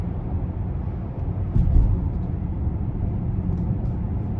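A 2020 Cadillac XT6 Sport with the Platinum Package rolls over a road bump, a steady low cabin rumble swelling into a brief thump and jolt midway before settling back to an even drone.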